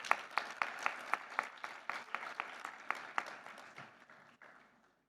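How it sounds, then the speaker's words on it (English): A small audience claps in steady applause, distinct hand claps fading out over several seconds, fairly faint and with no talking. "Please, with a round of applause, let's welcome Sam Zizinga to the stage."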